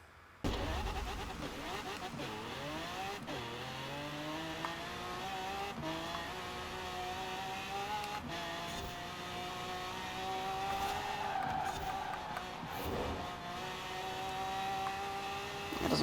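An AMC and a Mosler racing each other in Forza Horizon 4, a steady, loud engine roar that climbs through the gears with rising whine and brief shift dips, carrying on continuously for the whole run.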